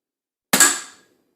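A single sharp shot from a regulated Air Arms S200 .177 air rifle set just under the UK legal power limit, a crisp crack with a short decaying ring and no other sound.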